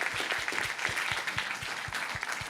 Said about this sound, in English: Please, a final clap of hands for our esteemed panel.